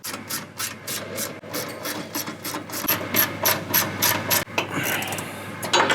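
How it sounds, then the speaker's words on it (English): A hand ratchet tightening Allen bolts on an Ironman 4x4 front bumper being installed on a 2022+ Toyota Tundra, clicking in steady rapid strokes, close and loud, with brief pauses between runs. "Allen bolts with split washer and flat washer, and then we'll bolt this into place"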